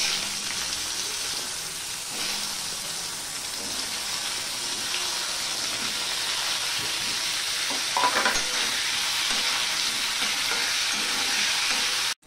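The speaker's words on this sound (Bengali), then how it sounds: "সবার প্রথমে আমি কাঁকরোলগুলোকে ভেজে নেব।" Pieces of spiny gourd coated with salt and turmeric frying in hot oil make a loud, constant sizzle with some scraping as they are stirred, and the sound stops suddenly at the end.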